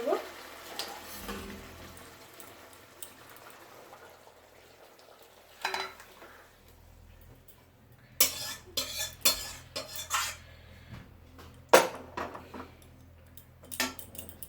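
A pot of tilapia fish curry is handled and lifted off the stove, giving scattered metallic clanks and scrapes of cookware at close range, with quiet stretches between the knocks.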